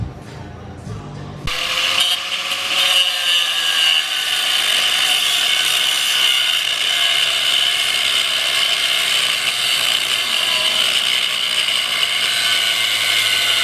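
A power tool cuts behind the rib of a CD009 transmission during a Fisch Racing Tech 1JZ adaptor kit install, giving a steady, loud, high-pitched whine with mechanical chatter that runs nearly the whole time after a brief quiet start.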